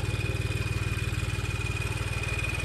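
A tractor engine with a straight exhaust pipe and turbo, working a plough, runs steadily at close range with a loud, rapid, even exhaust pulse throughout.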